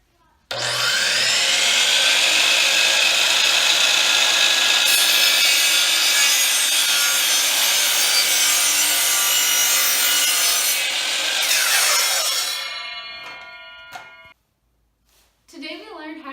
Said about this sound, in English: Today we learned how to use the DeWalt sliding miter saw